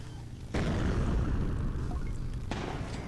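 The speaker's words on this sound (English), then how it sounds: "Those explosions are great." Explosions in the motorcycle combat video game Road Redemption: a sudden heavy boom bursts in after a brief lull, rumbles on, and a second blast hits moments later, both loud and close.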